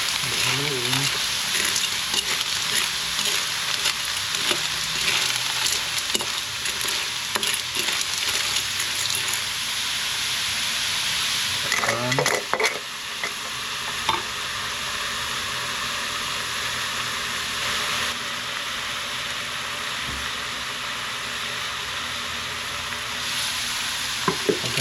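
Tabagwang shellfish frying in a pan sizzle loudly and continuously for a long stretch, with repeated stirring scrapes and clinks close up and no voices over them.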